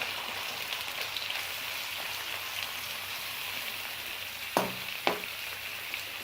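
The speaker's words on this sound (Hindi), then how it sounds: "हमने कढ़ाई में तेल गरम कर लिया है। अब हम इसमें प्याज डाल के इनको फ्राई करेंगे।" Onions sizzle in hot oil in a kadai, a steady close frying hiss with soft crackles throughout and two sharper pops or stirs near the end.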